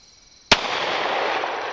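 A single sharp shot from a Glock 19 Gen 4 pistol fired outdoors at a target 240 yards away, one loud crack followed by a sustained noisy wash of echo.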